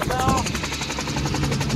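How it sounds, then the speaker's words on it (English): A Bell 47 helicopter landing at the Oshkosh airshow makes a loud, close, rhythmic rotor chop with a steady pulsing beat under engine noise for the whole stretch. "our Bell 47 helicopter is landing"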